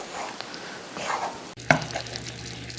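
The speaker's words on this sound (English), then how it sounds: "stir your chicken one more time" Chicken pieces for keto teriyaki sizzle in a hot pan as they are stirred, a steady close frying hiss punctuated by a sharp scrape and clatter of the utensil partway through.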